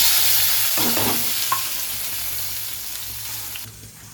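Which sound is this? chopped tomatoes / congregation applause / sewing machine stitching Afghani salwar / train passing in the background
chopped tomatoes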